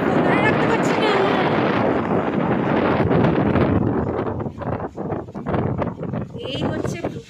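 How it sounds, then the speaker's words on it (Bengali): Strong monsoon wind at Talbaria dam in Bankura buffets a handheld phone microphone, producing loud, rumbling roars that swell and fall in gusts, while a voice talks beneath. "আমি হাওয়ায় ফোন ধরে রাখতে পারছি না।"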